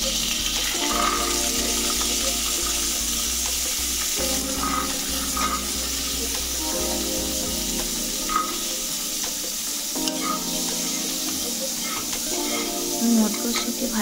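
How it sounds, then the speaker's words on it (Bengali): Green peas fry in a pan at home, giving a soft, continuous sizzle broken by periodic stirring scrapes, fairly quiet and without talk. "এবার আমি মটরশুঁটিগুলো কিছুক্ষণ ভেজে নেব।"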